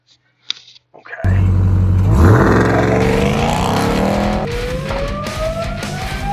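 Ram 1500 TRX pickup truck accelerating hard on the road, a loud, close engine roar with rising revs and gear changes, starting after a brief quiet moment and pulling strongly throughout.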